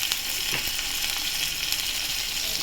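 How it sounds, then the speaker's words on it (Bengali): Onions frying in mustard oil in a pan give a steady, close crackling sizzle, dense and even throughout with a few faint scraping stirs. "দেখুন পেঁয়াজটা মোটামুটি ভাজা হয়ে গেছে। এর মধ্যে আমি একটু সর্ষের তেল দিয়ে দেবো।"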